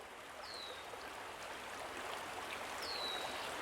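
A synthesized birds-and-waterfall nature sound: steady rushing water flows continuously, with two brief high bird chirps rising over it.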